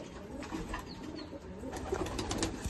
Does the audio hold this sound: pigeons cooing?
yes